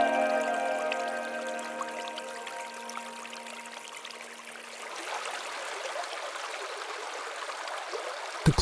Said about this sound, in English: The clear stream that comes from mountains flows into larger water bodies.